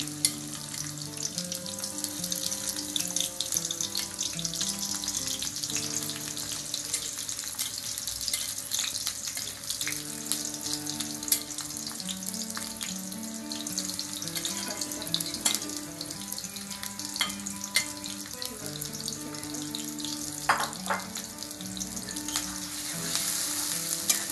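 Chopped onions fry being browned for shahi chicken pulao, a continuous sizzle with intermittent stirring and scraping and light watery crackle, steady and moderately loud while faint music plays underneath.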